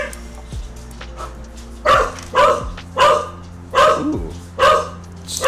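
A pet dog barks excitedly as the owner's wife arrives home, loud repeated barks in bursts about once a second, with a brief exclamation from a person at the start.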